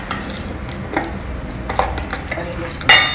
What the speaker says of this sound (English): Now mix everything well together.